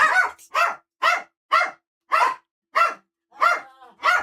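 A dog barks repeatedly at home, about nine sharp, evenly spaced barks close to the microphone with silent gaps between them.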